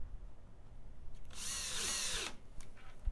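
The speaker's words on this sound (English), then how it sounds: "Drive your screws in." A power drill drives screws into a wooden desk during a drawer install, a loud steady whirring burst of about a second in the middle, with quiet room noise before and a couple of faint clicks after.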